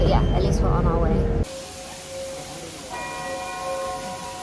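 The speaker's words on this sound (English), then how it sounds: "So that woman says she hit that gong behind us." A struck metal gong in Bangkok rings out with a sustained shimmering tone that lingers and fades, preceded by a burst of loud talk and crowd noise.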